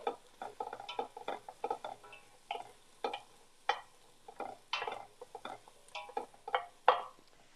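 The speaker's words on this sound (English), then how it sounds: "here we're going to put in these mushrooms first. We'll stir that around." Mushrooms stirred and sautéed in a pan, with a spoon scraping in a regular rhythm over a soft sizzle; close, fairly quiet strokes repeat about twice a second, and nobody speaks.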